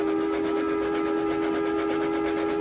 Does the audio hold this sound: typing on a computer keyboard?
no